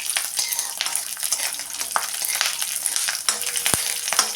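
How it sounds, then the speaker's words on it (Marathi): A handful of garlic fries with peanuts in a pan under a constant bright sizzle, while a spatula stirs and scrapes through them in quick, irregular strokes, close by and with no talking. "थोडासा लालसर होईपर्यंत हा लसूण आपण परतून घेऊया"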